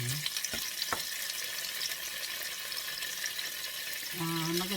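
Tofu fries in a non-stick pan with a steady broadband sizzle, with faint background tones and a brief clink near the start.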